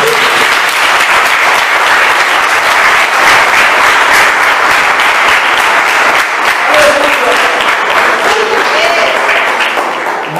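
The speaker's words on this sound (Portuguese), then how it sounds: "As palmas que eu vou dar." A Wesleyan Methodist church congregation in Belo Horizonte breaks into loud, sustained applause, a dense, even roar of many hands clapping close by for the whole stretch.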